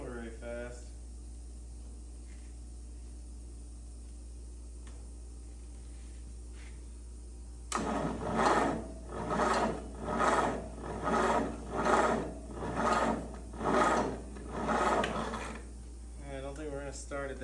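Old Ford engine cranking slowly on a weak 6-volt battery, about eight labored, rhythmic turns of the starter heard up close after a stretch of quiet shop noise.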